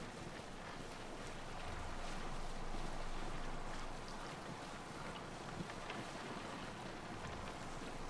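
A ship sailing along the shore in the video game Assassin's Creed Odyssey, with a soft, steady rush of wind and sea swelling gently in the middle before settling.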